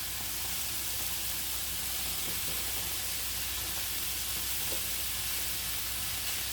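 Home fries potatoes fry in a pan while a wooden spatula spreads them out, giving a continuous soft sizzle with a few faint scraping taps, quiet and steady with no talking.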